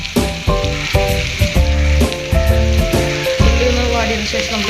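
Onions sizzle and crackle in hot oil in a frying pan while a chicken curry is cooked, a dense steady hiss with bursts of stirring and clinking, loud and close.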